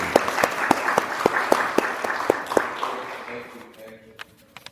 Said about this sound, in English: Let's give Father a round of applause and thanks.